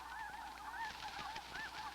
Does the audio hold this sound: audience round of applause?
no